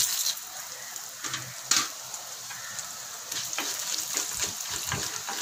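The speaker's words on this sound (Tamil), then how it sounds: "வரமிளகாய் பொரிஞ்சிருச்சு" Dried red chillies fry in hot oil for Madurai-style mutton kulambu, giving a close, steady sizzle with occasional sharp crackles and pops.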